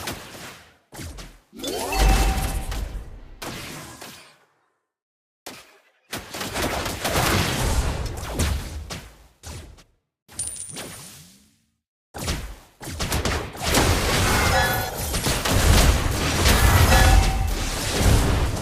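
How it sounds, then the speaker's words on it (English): Combat effects from a Mobile Legends match while a turret is under attack: bursts of gunfire-like shots, whooshes and impacts in loud, dense clusters separated by brief silent gaps, with no talking. "Our turret is under attack. Our turret has been destroyed."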